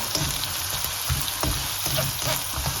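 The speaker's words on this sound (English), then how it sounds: "I put my garlic and my onions in the pan, and I'm going to saute that until they're a little bit brown but not too brown" Garlic and onions sauté in butter in a pan for a mussel dish, giving a close, continuous crackling sizzle with small pops and stirring scrapes throughout.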